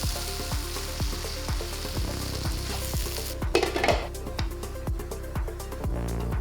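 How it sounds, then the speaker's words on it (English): Eggplant frying in oil in a pan: a continuous sizzle with a rhythmic series of regular knocks throughout, and a burst of louder crackling and clatter midway. "While eggplant is cooking"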